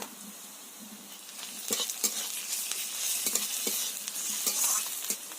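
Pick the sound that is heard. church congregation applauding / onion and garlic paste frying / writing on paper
onion and garlic paste frying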